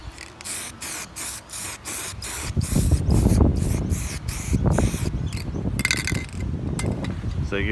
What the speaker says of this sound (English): So you give it a bit of a spray paint so that way it doesn't rust.